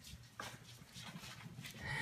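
Whippet puppies whimper and play in a pen, making faint, scattered whines and small yips amid rustling movement, with soft human voices nearby.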